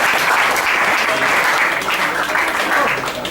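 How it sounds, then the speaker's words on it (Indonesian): Loud, continuous applause fills an entrepreneur talk show hall, a dense crowd of hands clapping close and steady with voices faintly mixed in. "Boleh tepuk tangan dulu dong untuk bisnis Pak Henry."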